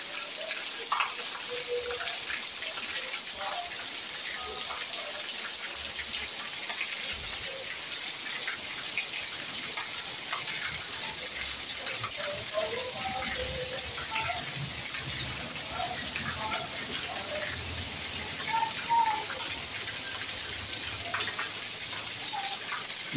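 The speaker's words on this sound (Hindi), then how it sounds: "बरसात हो रही है, झमाझम बरसात। देखिए क्या बरसात है, पानी रुकने का नाम ही नहीं ले रहा।" Heavy rain pours steadily during a Dussehra afternoon downpour in India, a constant dense hiss of falling water with scattered drips and a faint high-pitched tone throughout; no voices are heard.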